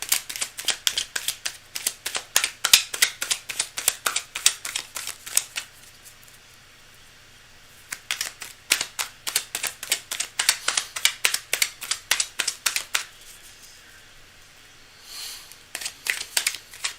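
Playing cards shuffled repeatedly during a live tarot-style reading, crisp riffling bursts in quick rhythmic runs with short pauses between, close and fairly loud, no talking.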